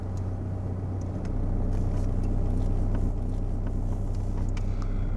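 A car engine idles with a low steady rumble, then rises slightly in load as the vehicle pulls away after the handbrake is released, continuous and fairly close with no talking.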